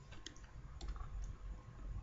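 A computer mouse clicks on a previous-page button of a web pagination demo, a few sharp, close ticks scattered over a low background hum.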